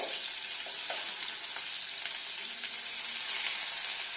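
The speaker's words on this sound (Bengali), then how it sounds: "মাছগুলো আমি খুব বেশি ভাজবো না হালকা লাল লাল করে এপিট ওপিট করে" Pieces of catla fish frying in oil, a dense, continuous bright sizzle that holds steady throughout, close by and fairly loud.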